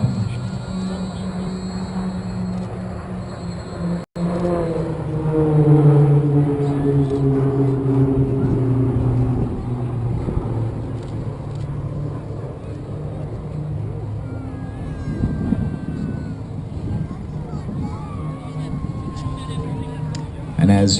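PC-9A propeller aircraft of the Roulettes flying a formation display, a continuous engine drone that rises and falls in pitch as the planes pass, heard at a distance under a commentator's voice and crowd murmur.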